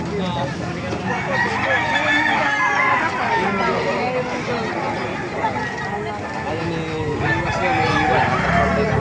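Several roosters crow repeatedly amid clucking chickens in a busy, noisy market yard in Baliuag, with people talking over the birds throughout.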